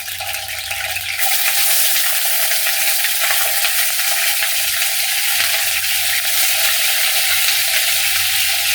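Chicken pieces sizzle in ghee on a hot tawa, a loud, continuous frying crackle that swells slightly at the start and then holds steady with no voices.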